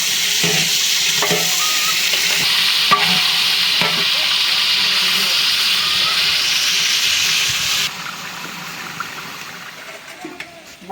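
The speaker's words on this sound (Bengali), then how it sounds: "মাংস ভাজা হয়েছে" Meat frying and being stirred in a pot for biryani, a loud, continuous sizzle with scraping stirs that drops to a softer hiss near the end.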